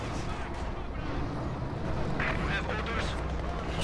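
Heavy mortar rounds fire and land in Company of Heroes 2 as dull booms within a steady battle din, with a commentator talking throughout.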